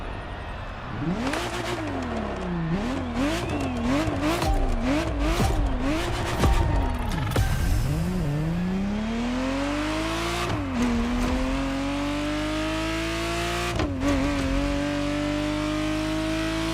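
A Ferrari Testarossa in the racing game The Crew Motorfest revs hard through several quick blips, then climbs in one long pull with gear shifts, a loud close engine note without any talk.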